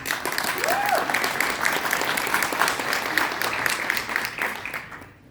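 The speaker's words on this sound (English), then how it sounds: "A round of applause, please." Conference attendees give a steady round of applause, loud and continuous for several seconds before tapering off at the end, with a faint voice underneath.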